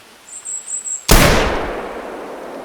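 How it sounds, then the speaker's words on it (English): A single loud .308 rifle shot in the hunting game theHunter Classic, a sharp close blast trailing into a long fading echo after a few quiet ambient chirps. "we are going to take a shot at this guy with the 308"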